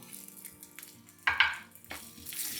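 Garlic, coriander seeds and cumin frying in a pan for potato garlic rice, a soft steady sizzle with a louder crackling burst midway and another near the end, close and without speech.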